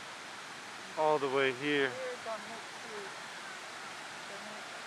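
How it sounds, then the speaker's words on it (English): A waterfall roars in a steady, broad wash of rushing water heard up close at a scenic viewpoint, with a person briefly speaking over it. "You can feel the waterfall spraying"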